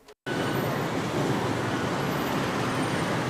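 Road traffic at the Nyayo roundabout on Mombasa Road, a steady broadband rumble of passing cars and buses that cuts in abruptly after a brief silence and then holds at a moderate, even level.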